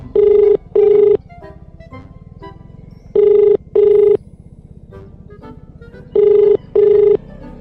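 An outgoing phone call rings back in paired electronic tones, three double rings at a steady interval, loud and clear over a faint background hum.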